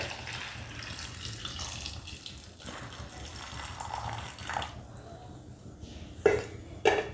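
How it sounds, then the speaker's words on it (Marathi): Water runs and splashes into a pot of drumstick pods for boiling at close range, a continuous pour with a couple of sharp knocks near the end. "यामध्ये मी आवश्यकतेनुसार पाणी ॲड करते"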